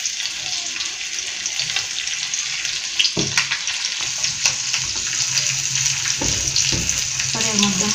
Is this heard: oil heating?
yes